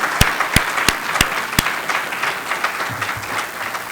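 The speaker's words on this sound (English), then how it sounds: "let's give Suresh a great round of applause" Applause at a TiE Toronto gala, with a few sharp individual claps standing out over a steady wash of clapping that continues through the clip.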